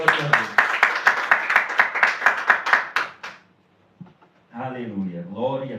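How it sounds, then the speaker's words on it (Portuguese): A church congregation claps in a steady, even rhythm, roughly fifteen sharp beats over about three seconds, then falls quiet before a voice begins speaking. "E as palmas que engrandecem o nome de Jesus"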